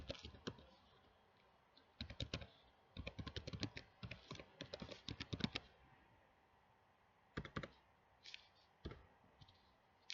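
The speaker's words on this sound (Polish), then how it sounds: "Jeszcze raz wpisuję hasło." A password is typed on a computer keyboard, with quick clusters of light key clicks broken by short pauses, close and quiet, and no talking.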